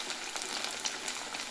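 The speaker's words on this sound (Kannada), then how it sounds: "ಈಗ ಎಣ್ಣೆಯಲ್ಲಿ ಬಿಡೋಣ. ನೋಡಿರಿ, ಹಲ್ಕ ಸಣ್ಣ ಉರಿಟ್ಟು ಫ್ರೈ ಮಾಡಬೇಕು." Chicken kebab pieces frying in oil over a low flame, giving a steady, close hiss of fine sizzling crackle with no talk.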